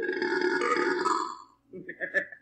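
An animated pony character gives a short, grunting burp after a stretch of speech, the belch arriving in a few choppy bursts at moderate volume.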